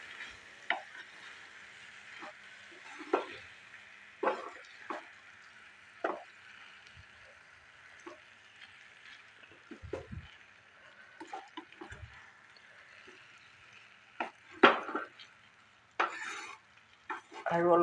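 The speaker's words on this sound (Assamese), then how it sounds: "এতিয়া মই ঢাকনিৰে ঢাকি এইদৰে মিডিয়াম ফ্লেমত ভালদৰে ভাজিম।" Taro leaves cook in a covered pan over a medium flame, with quiet sizzling and repeated light clinks and scrapes of a spatula stirring against the pan, spaced irregularly throughout.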